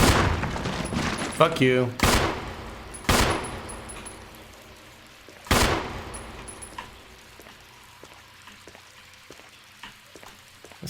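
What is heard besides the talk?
Jill shooting a pistol at a shark, Resident Evil video game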